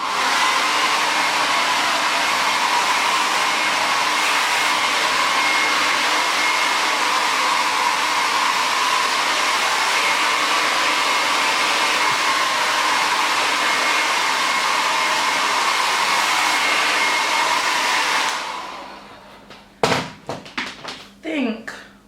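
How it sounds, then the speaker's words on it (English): A cheap travel hair dryer blows with a steady, loud whirring roar for about eighteen seconds, then switches off, followed by a few handling knocks. "this is just a really shitty Boots like travel hairdryer"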